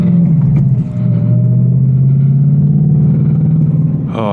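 An 810-horsepower RTR Mustang GT roars while driving, a loud, steady engine drone holding near one pitch for several seconds with a slight dip early on and a brief lift at the end.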